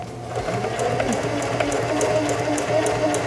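A Heavy Duty 4411 sewing machine runs steadily down a fabric seam, its close motor hum carrying a rapid, even ticking of the needle throughout, with no talking.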